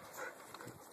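A dog playing in snow pants and whimpers softly, a faint close breathy huff with a thin high whine, about a second long.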